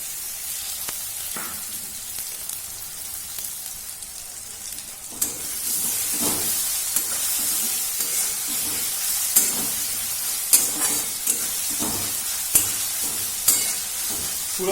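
Ginger paste and chopped tomato frying in a pan for egg chicken tarka, a steady close hiss and sizzle that swells partway through, broken by occasional spatula scrapes and clinks.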